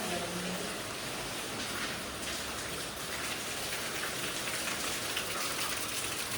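Steady, heavy rain hisses continuously over a village at risk of flooding, close and loud, with no break from start to finish.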